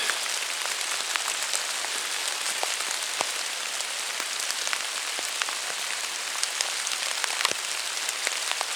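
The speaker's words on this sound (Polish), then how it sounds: "Pięknie ten szum, szum deszczu w koronach drzew jest naprawdę rewelacyjny, taki kojący, uspokajający." Steady rain falls on a forest tree canopy, a dense even hiss with scattered close drips. No one speaks.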